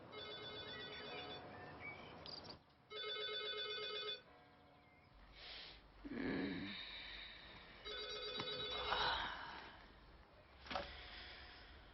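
A telephone rings in a French TV crime drama, with repeated bursts of an electronic ring separated by short pauses and other quiet room sounds, heard at a fairly low level.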